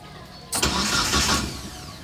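An old car's engine cranks and sputters loudly while the car is pushed, a broad rough burst that rises abruptly and lingers before easing off.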